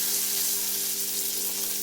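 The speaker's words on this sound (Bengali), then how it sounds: "তাই গ্যাসের ফ্লেমটা আমি মিডিয়ামে রেখে পটলটাকে আমি একটু উল্টে পাল্টে লাল লাল করে ভেজে নিলাম।" Pointed gourd (parwal) pieces fry in hot oil in a pan over a medium gas flame, giving a loud, steady, unbroken sizzle close by.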